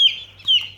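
Murray McMurray meat chickens give two close, loud clucks in quick succession, short nasal calls over a low steady hum.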